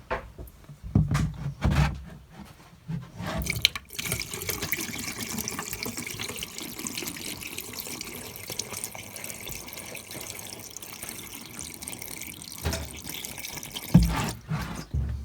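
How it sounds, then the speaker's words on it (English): Antifreeze poured down a laundry tub drain while shutting down a cottage for winter, a long soft continuous pouring and trickling rush with a few thumps and clunks at the start and end. "next we're going to dump more of the antifreeze down into the laundry tub"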